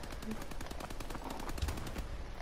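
Light machine gun fire in Call of Duty Advanced Warfare, a rapid run of shots rattling steadily through the whole moment, fairly dense and loud under a busy game mix.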